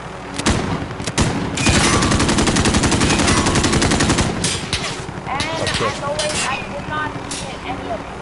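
Heavy, sustained automatic gunfire in Call of Duty: Warzone, loud and close, with sharp individual cracks and a dense rattling stretch mixed with distant booms, while voices speak beneath the shooting.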